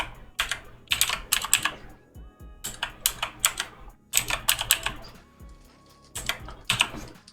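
Close, crisp typing on a computer keyboard comes in quick bursts of clattering keystrokes separated by brief pauses, with no voices.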